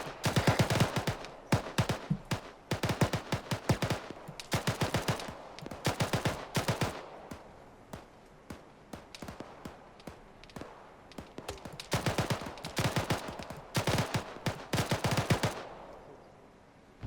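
Bursts of automatic gunfire in the Arma 3 military-simulation game, with repeated rapid volleys clustered in several sharp strings that are separated by quieter pauses, some bursts sounding closer and louder than others.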